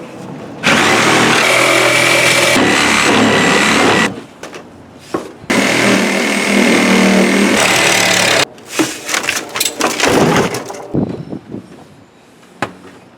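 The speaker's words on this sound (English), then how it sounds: "if you want to save a lot of time, I use a pruning shear blade" A reciprocating saw fitted with a Diablo carbide-tipped pruning blade cuts through a hot tub, loud close buzzing rasps in two long bursts, followed by shorter stuttering cuts that taper off.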